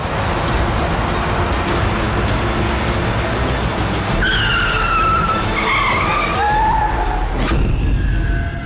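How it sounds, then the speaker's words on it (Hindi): A car skids to a halt in a TV crime drama, a loud, sustained rush of tyre and road noise with rising squeals near the end. "ये इसने गाड़ी क्यों रोक दी?"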